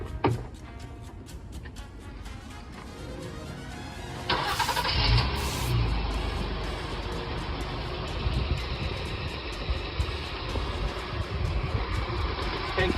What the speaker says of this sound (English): turn the car on and check the voltage of the battery when the car is running